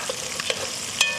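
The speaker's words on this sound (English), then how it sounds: "I just want to kind of heat my crawfish." Crawfish heats in a hot pan with a soft, steady sizzle, broken by a few light stirring scrapes and one sharper clink near the end, close by and with no talking.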